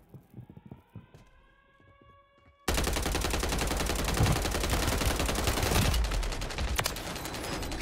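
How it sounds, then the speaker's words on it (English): Video game airstrike: scattered gunshots give way to a sudden sustained roar of rapid gunfire and explosions, loud and dense, continuing to the end with no talking over it. "Friendly fusion airstrike inbound."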